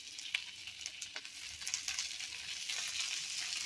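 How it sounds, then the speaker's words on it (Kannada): Chopped onion and tomato fry in a pan for a soya dish, giving a steady close sizzle with a few faint stirring scrapes and no talk. "ಸೊ ಇಲ್ಲಿ ನೋಡ್ರಿ ಈರುಳ್ಳಿ ಇಷ್ಟು ಫ್ರೈ ಆಗೈತಿ"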